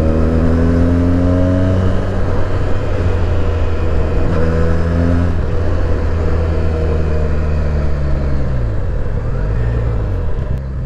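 A 2020 Benelli 302 BN motorcycle engine drones loudly and steadily while riding, its tone climbing and falling through gear changes with a constant close rumble.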